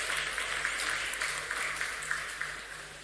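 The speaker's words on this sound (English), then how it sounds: "a big round of applause for our moderator" Conference audience at a development working group session applauds the moderator: dense, even clapping from a large seated crowd, slightly distant, over a low electrical hum.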